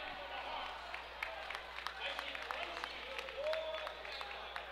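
A packed basketball crowd at an Iowa high school substate final between Ankeny and Centennial applauds steadily in a gym, with an announcer talking over the clapping.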